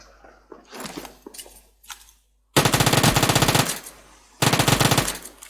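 Rapid automatic gunfire in the mobile battle royale game PUBG Mobile, two loud sustained bursts of closely spaced shots separated by a short pause, preceded by quieter scattered game sounds.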